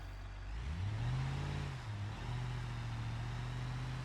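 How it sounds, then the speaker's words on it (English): A car engine in the driving game BeamNG, on a Shutoko-style road, revs up, shifts and settles into a steady drone, close and alone with no talk. "let's have a quick drive around and meet the traffic we have just spawned"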